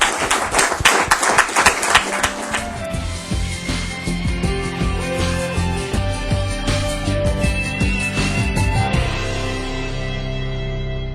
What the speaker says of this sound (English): First we're going to applaud you.